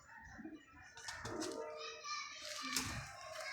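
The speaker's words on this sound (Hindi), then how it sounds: "ये कबूतर सारे अंदर करो" Soft pigeon coos and wing flutters nearby, with children's voices chattering in the background.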